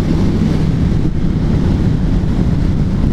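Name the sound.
wind buffeting rider on Triumph Street Twin motorcycle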